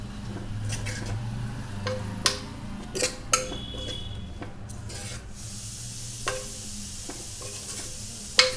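Dal with salt and fenugreek leaves being stirred in a pan, a steady soft scraping and rubbing with sharp spoon clicks against the metal now and then, close and without any talk.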